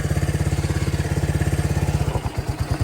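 A dirt bike engine chugs in a steady, rapid loud rhythm, then stutters and slows as the clutch is let out, the bike crawling without stalling.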